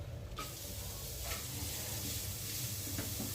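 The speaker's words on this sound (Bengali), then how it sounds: "খুব ভালোভাবে মশলাগুলো তেলে ভেজে নিচ্ছি" Spices sizzle in hot oil in a pan while cauliflower paratha is being made, bay leaf, dried chilli and black cumin crackling. A soft, steady hiss carries a few faint stirring clicks and runs without any talk.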